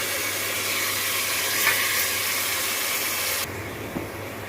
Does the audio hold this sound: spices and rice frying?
yes